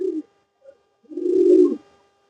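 Restless breeding pigeons give a short low coo, then a longer, fuller coo close by, with quiet gaps between.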